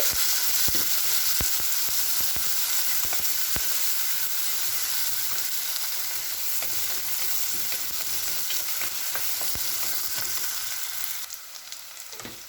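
Chopped onion and curry leaves sauté in a pan with a loud, continuous sizzle and faint stirring clicks, easing slightly quieter in the last moments.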